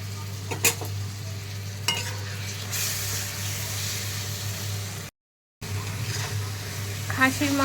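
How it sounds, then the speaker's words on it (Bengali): Onion and garlic paste fries in a pot as the base for a mutton curry, a steady soft sizzle with occasional stirring scrapes and clinks of a spoon against the pot. "এবার রসুনের কাঁচা গন্ধটা না যাওয়া পর্যন্ত আমি এটাকে ভেজে নেব"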